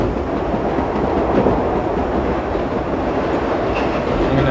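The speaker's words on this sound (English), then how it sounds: "I've got the overground going at the moment." An overground train runs in a subway simulator video game, producing a loud, continuous rumbling roar with faint clickety-clack from the wheels, steady throughout and with no talking.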